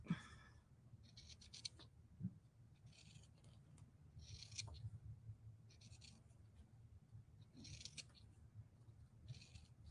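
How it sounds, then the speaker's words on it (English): Small detail scissors cutting fabric in repeated short bursts, crisp blade clicks at a steady pace, close and quiet with faint rustling between cuts. "I'm going to take my little detail scissors here"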